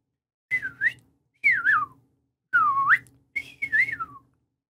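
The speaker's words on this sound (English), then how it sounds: "there can be a lot of information transmitted in just a few little whistles." Four short whistled bird-song phrases ring out close and clear, each a rising and falling sweep, separated by brief silences.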